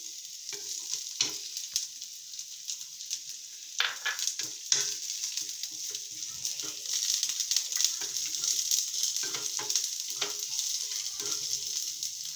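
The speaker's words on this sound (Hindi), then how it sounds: "अभी मैं इसमें तेल गर्म हो गई है, मैं थोड़ा गाजर डाल दूंगी।" Carrots frying in hot oil for a sandwich filling, a continuous soft crackling sizzle with occasional stirring clicks, fairly quiet and close, without speech.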